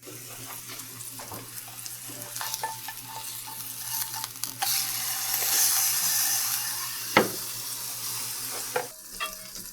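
Ground chicken breakfast patties frying in ghee, a steady crackling sizzle running throughout with occasional sharp pops and clatters of a pan or utensil, close and moderately loud, no talking.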